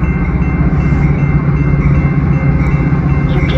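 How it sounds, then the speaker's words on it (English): Metra commuter train on the Union Pacific Northwest line pulling into a station, a steady loud rumble of engine and rolling wheels filling the whole stretch with no voices. "Northwest Main Line train number 645 to Harvard is now arriving"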